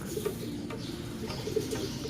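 A racing pigeon coos softly in a steady low rhythm of repeated murmuring calls, set against a busy background of ambient noise.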